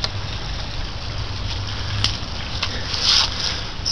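An old Kiekhaefer Mercury Mark 6A outboard motor idles steadily with a low putter and hiss, with a few faint clicks and a brief splash-like burst near the end.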